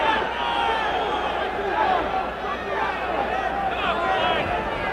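A boxing arena crowd at a 1978 Sugar Ray Leonard vs Floyd Mayweather Sr. fight roars in a steady, dense wash of cheering and shouting, with a commentator's voice over it throughout.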